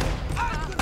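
Gunfire in the video game Uncharted: Drake's Fortune, a dense burst of overlapping shots and booms filling the short moment, loud and continuous with no voice over it.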